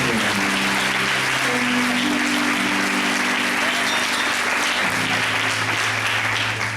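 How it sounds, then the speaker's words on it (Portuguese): A church congregation applauding during a sermon, dense continuous clapping at a strong level throughout, with sustained low organ or keyboard tones underneath. "Vamos aplaudir mais uma vez o Senhor."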